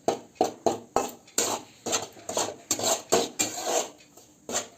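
Flour frying in a thin kadhai over medium-low heat is stirred with steady, rhythmic scraping strokes, about ten close, even rasps against the metal pan, with no talking.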